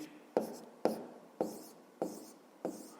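Five separate pen strokes writing a fifth-grade math calculation by hand, each a short sharp scratch that fades quickly, spaced about half a second apart, close and quiet with no talking.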